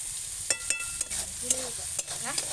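Spice masala roasts in a pan for stuffed brinjal, with a soft steady sizzle under repeated scraping strokes as it is stirred, several distinct scrapes about half a second apart.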